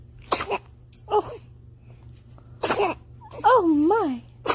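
A baby sneezes in a quick series of short bursts, the last one breaking into a whimper, with adults' voices speaking between the sneezes.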